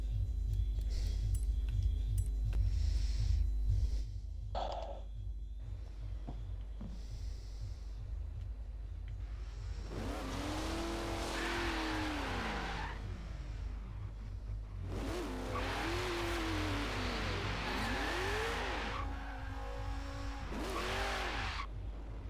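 Racing cars in a Forza Horizon 3 drag race, engines revving and rising in pitch through gear changes in two loud bursts, over a steady idling rumble with no talk.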